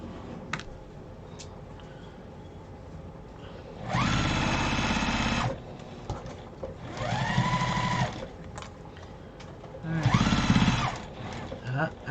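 A sewing machine stitches a seam on a fabric briefcase in three loud bursts of a second or two each, separated by short pauses with quieter handling noise.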